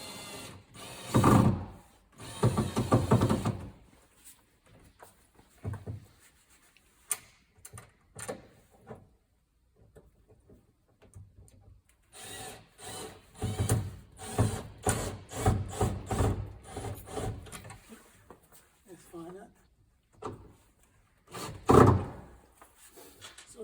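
Hinges are fitted and screwed onto a wooden wardrobe door, with scattered clicks, knocks, rubbing and ratcheting screw turns coming in bursts separated by quiet pauses.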